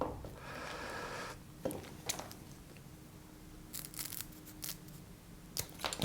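Scissors snip through a small piece of speaker cable during assembly, a few short crisp cuts and rustles spread across a quiet moment.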